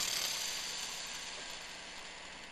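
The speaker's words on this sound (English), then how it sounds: "First, we're going to spin the 4-inch standard fletch." An arrow with 4-inch standard fletching spins on a spin checker, giving a steady whirring, ratcheting rush that slowly fades as the spin winds down, close by and with no talking.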